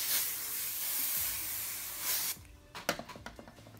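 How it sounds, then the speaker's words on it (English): Texture spray hisses out of a can onto curled hair in a close, continuous two-second burst, followed by quiet handling sounds and light taps. "Go back with texture spray"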